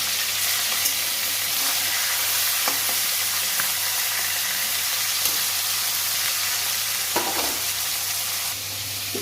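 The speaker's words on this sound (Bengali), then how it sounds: "মাছের মাথা ভেজে নিচ্ছি" Fish head frying in a pan for a fish and potato curry, a steady close sizzle that runs the whole time with a few soft scrapes and clicks on top, and no one speaking.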